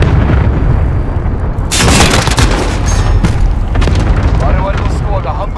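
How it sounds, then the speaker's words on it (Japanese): Cluster bomb explosions in the video game Call of Duty Modern Warfare, a loud sustained barrage of heavy booms and crackling blasts with a burst of sharp detonations near the middle, while voices talk over the din. "クラスター爆弾投下。"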